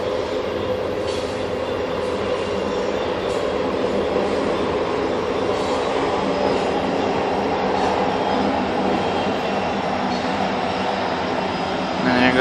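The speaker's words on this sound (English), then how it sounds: "And there goes 2 BNSF locomotives." Two BNSF freight locomotives pass with a loud, continuous rumble and rail clatter, holding steady and close throughout.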